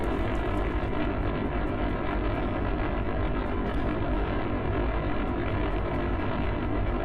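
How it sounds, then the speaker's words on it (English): A Minecraft rocket lifts off with a loud, continuous, beefy engine roar that holds steady throughout, with no voices. "this rocket sounds a bit more beefy"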